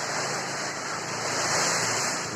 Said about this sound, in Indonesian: Hujan angin guys, hujan angin.